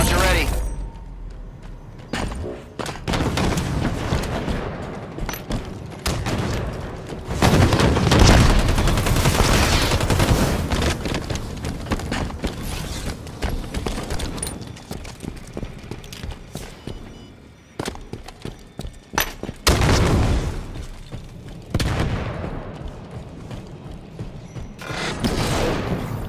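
Rapid gunfire and booming explosions from a Halo 5 Slayer match on the Eden map, loud and dense throughout, with bursts of shots and blasts layered over an announcer's voice.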